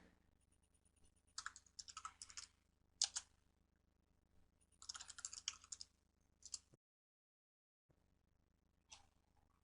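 Computer keyboard typing while entering MATLAB commands, heard as quiet bursts of rapid key clicks separated by short pauses, with a brief silent gap near the end.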